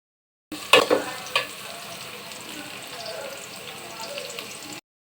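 Green chilies and onions dropped into hot oil in a Bengali kitchen, opening with a couple of sharp crackles and clatters as they land, then settling into a soft, steady sizzle.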